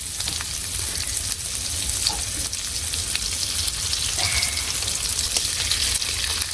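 Eggs with onion and salt fry in oil, giving a loud, even sizzle that runs throughout with faint scattered ticks, close up and without voices.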